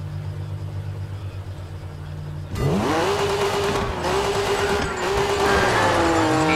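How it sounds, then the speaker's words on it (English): A rally car engine in the video game Dirt 3 idles low, then roars up loudly at launch, revving hard and shifting through gears with tire squeal, close and continuous. "I've got the engine running at peak efficiency, so get out there and set another record time."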